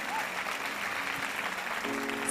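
A church congregation claps together in a dense, even wash of applause, with a faint held tone underneath.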